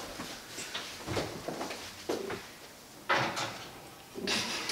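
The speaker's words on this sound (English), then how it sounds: "You wanna open the oven?" An oven door is opened while German pancakes bake at home, giving several short knocking and sliding clunks spaced a second or so apart against a quiet kitchen background.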